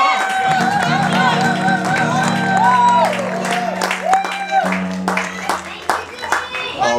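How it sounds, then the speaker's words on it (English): Concert audience clapping and cheering after a live cover of a song, a dense, steady round of applause close by, with a voice talking over it and scattered shouts rising toward the end. "give a big round of applause to all of you guys for doing such an amazing job"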